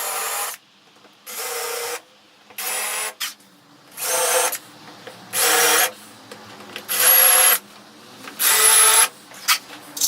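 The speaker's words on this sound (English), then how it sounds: "I drilled, countersunk, and then screwed them to the MDF" A power drill drives screws into MDF for a crosscut sled, in repeated bursts of high whining drilling, each about a second long, separated by short quiet pauses, loud and close.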